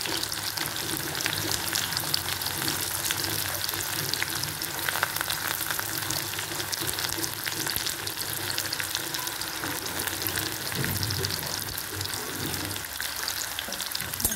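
Onion frying with garlic in hot tempering oil for a moong dal curry, a loud continuous sizzle with faint stirring, steady throughout with no talk.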